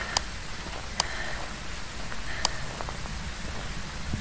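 Steady rain in a ghost-hunting video game, a soft continuous hiss with a few sharp drop-like ticks scattered through it, moderately quiet and with no talking.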